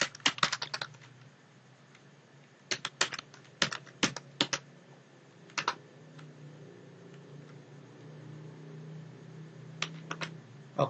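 Quick bursts of keystrokes on a computer keyboard come close and clear as a new folder name is typed, clustered taps separated by short pauses over a faint background hum, with no one speaking.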